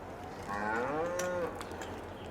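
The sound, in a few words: cattle mooing in video game Farming Simulator 22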